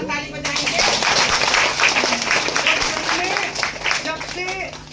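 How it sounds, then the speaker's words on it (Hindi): Audience applause breaks out at a gathering, a dense wash of clapping that carries on through the moment while voices and talk run loudly over it. "जोरदार ताली बजाएंगे।"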